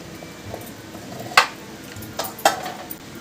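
A lid clinks onto a pot while hilsa fish is steamed with rice, salt and raw mustard oil, with two short, sharp metallic knocks about a second apart over quiet kitchen background.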